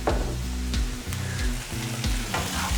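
Mushrooms sauté with ginger, onion, spring onion and bell pepper in a pan, a close crackling sizzle with intermittent scraping and stirring clatters, no voices.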